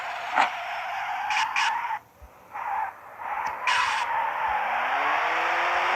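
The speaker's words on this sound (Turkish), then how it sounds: "Bak bu orada çok güzel drift atıyorum biliyor musun?" A car drifts in the Assetto racing video game, its tire squeal a loud, sustained screech that briefly drops out and then carries on steadily, with no talking.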